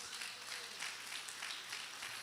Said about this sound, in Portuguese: Dá uma salva de palmas e glória para exaltar o nome de Jesus.